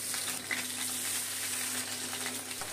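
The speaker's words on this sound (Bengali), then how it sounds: "এক এক করে লাউ পাতাগুলো তেলের মধ্যে দিয়ে দিলাম" Rui fish wrapped in bottle gourd leaves fries in hot mustard oil in a wok over low heat, giving a steady, even sizzle with no talk.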